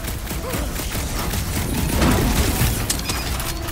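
Gunfire from the Guardians of the Galaxy video game, a dense, steady barrage of shots and crashing impacts mixed with clanking mechanical noise, staying loud for the whole stretch.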